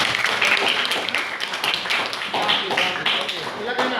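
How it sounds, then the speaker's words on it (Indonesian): High school students in a classroom clap for a classmate, giving scattered, uneven claps and taps mixed with chatter and voices throughout. "tepuk tangan untuk si"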